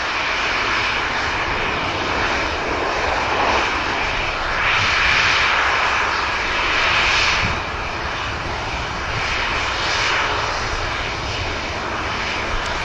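A Boeing 737 departs Manchester Airport, its jet engines roaring loud and steady with swelling surges, heard alone without voices.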